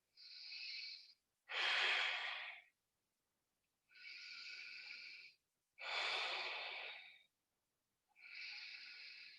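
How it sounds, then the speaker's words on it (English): Slow, deep yoga belly breathing alternates between airy nasal inhales and fuller, rushing exhales, five breaths in an even rhythm with pauses between, close and quiet. "breathing into the belly, abdominal breathing here"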